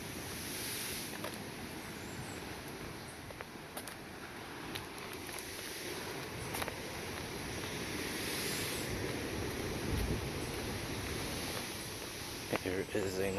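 Ocean waves surge and break on the beach at Casa Marina in Sosúa, Puerto Plata, the day after Hurricane Irma, a steady, continuous wash of surf mixed with wind buffeting the microphone.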